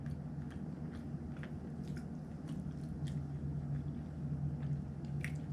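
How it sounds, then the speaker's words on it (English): A person chewing food close to the microphone, with soft repeated wet squishing bites in an irregular rhythm and no talking. "But more time, I chew like this."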